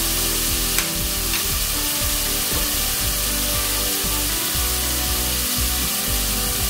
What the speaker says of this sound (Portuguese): Eu vou refogar a carne moída só na cebola e no alho.